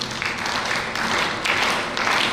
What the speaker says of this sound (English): can you clap synchronously, all together?